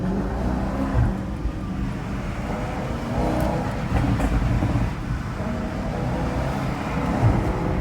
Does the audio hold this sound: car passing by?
yes